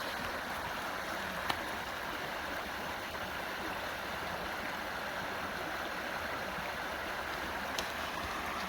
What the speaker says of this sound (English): The water is up higher than it's been in a while since I've been here.